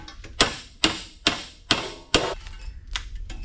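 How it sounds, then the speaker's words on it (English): Five sharp metallic ball-peen hammer blows on a 1972 Chevrolet C10 with a small-block 350 engine ring out in a steady rhythm, each with a brief ringing decay, followed by a couple of lighter taps. "I guess I'll beat the fuck out of it with a ball-peen hammer."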